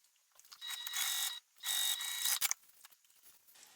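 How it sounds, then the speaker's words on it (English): A sewing machine stitching a tote bag seam, with two sustained bursts of fast mechanical whirring and clattering separated by a short pause, then a few lighter clicks, close and without talk. "I'm going to sew this together with the seam allowance given in the pattern"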